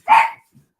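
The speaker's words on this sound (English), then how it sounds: "It sounds like dogs are going crazy." A single sharp dog bark, close and fairly loud, followed by a faint low trailing sound and then silence.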